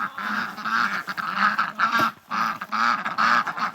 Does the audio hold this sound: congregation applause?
no